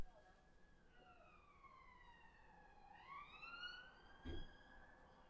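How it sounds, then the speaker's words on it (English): A police siren wails in the distance, rising and falling in long sweeping tones against steady background hum. "Ironic that the police are coming while this is on."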